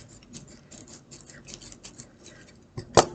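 Scissors snip through tulle rope with a series of quick, light cuts, ending in one sharper, louder snip, close and otherwise quiet.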